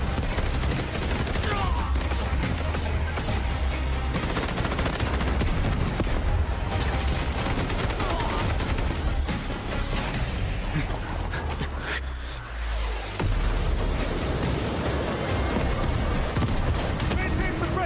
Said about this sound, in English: Maintain suppressive fire!